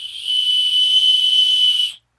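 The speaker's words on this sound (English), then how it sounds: "It's a whistle at that end." A small plastic whistle on a TRSCind survival kit flint starter gives one sustained, shrill, steady tone of about two seconds that stops abruptly.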